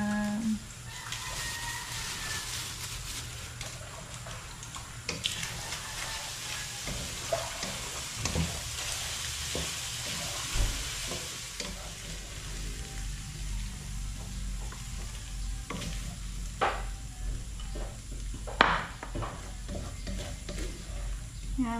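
Corned beef sizzles and fries in a pan while being stirred, a steady crackling hiss broken by repeated scraping and clinking of the utensil against the pan, fairly close and with no talk.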